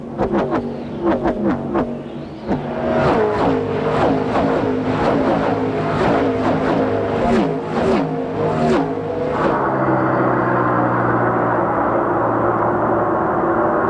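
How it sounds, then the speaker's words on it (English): NASCAR stock cars race at the 1996 Brickyard 400. Loud engines roar past one after another with quick rising and falling sweeps, then settle into a steady droning pack. "He's passing the lap car of Dick Trickle"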